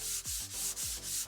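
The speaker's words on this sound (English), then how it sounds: "No need to go wild on the sanding like I said." Steady back-and-forth sanding strokes along the grain of a wooden worktop, five or six rhythmic rasping passes in quick succession, close and even, with no voices.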